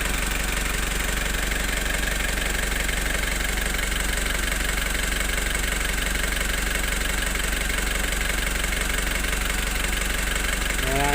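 A Foton Traviller van engine idles steadily after repair, a continuous, loud mid-to-low rumble with a faint rhythmic knock running unbroken throughout.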